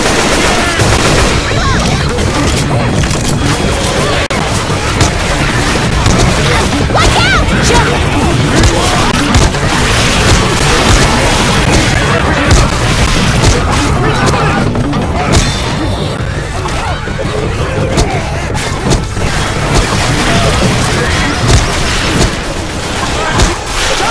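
Explosions and gunfire from Left 4 Dead 2 grenades, with dense, continuous blasts, bursts and rapid shots filling the whole stretch at high loudness, sustained without pauses.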